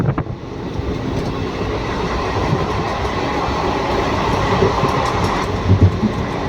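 A moving train rumbles steadily with rattling carriages and faint clicking of wheels on track, loud and close, without speech.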